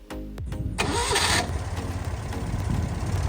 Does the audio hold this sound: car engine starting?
yes